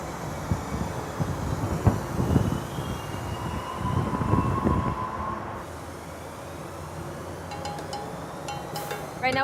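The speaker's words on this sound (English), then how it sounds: "We're waiting about 5-ish minutes until the northbound Metro comes" Northbound Metrorail train at University Metro Rail Station, a steady rumble with rising rail noise and brief squeals and hisses near the end, heard from the platform with no talking.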